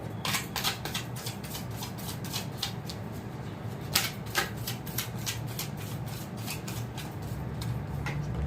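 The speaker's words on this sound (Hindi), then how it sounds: "पूरे कार्ड्स निकालती हूँ फिर आपको समझाती हूँ" Tarot cards being shuffled and drawn for a pick-a-pile reading: soft, irregular papery riffles and rubs, with a few sharper snaps near the middle, over a low steady background hum.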